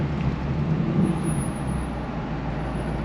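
2025 Ford Mustang GT engine, a deep low rumbling drone heard under an overpass with the windows down, steady and fairly loud without a sharp rev peak.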